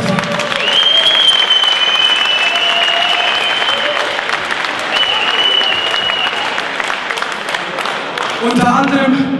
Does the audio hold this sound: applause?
yes